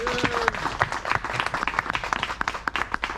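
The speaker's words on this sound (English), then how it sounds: "can we have a big round of applause for him?" A crowd applauds with brisk, scattered clapping that keeps going throughout, fairly close and moderately loud.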